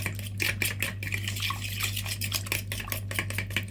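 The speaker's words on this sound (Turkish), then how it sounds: "1 çimdik tuz, 1 paket karbonat ile güzelce sıvı haline getirdiğimiz malzemeleri karıştırıyoruz" A whisk or spoon beats liquid batter ingredients for baklava dough in a bowl, with a quick rhythmic scraping and clinking against the sides over a steady low hum, and no talking.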